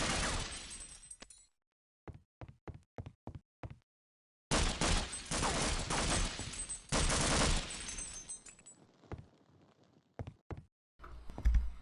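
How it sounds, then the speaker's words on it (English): Gunfire fills an online multiplayer match of Half-Life: Opposing Force: a loud sustained burst, a series of evenly spaced single shots, then long dense automatic fusillades that thin into scattered shots and end in one final burst. "the other player on the server began seemingly randomly shooting at the"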